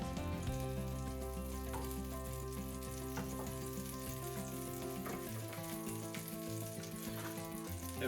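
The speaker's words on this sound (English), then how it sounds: "I'm going to put some butter in the pan." Butter sizzles steadily in a cast iron pan on the stove for a grilled cheese sandwich, a faint, even crackle that keeps going without pause.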